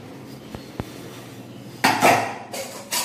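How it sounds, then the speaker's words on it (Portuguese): Pots, dishes and cutlery clatter and clink in a home kitchen as someone washes up, with a few sharp knocks followed by louder bursts of rattling, close by and free of talk. "Olha, marido lavando louça."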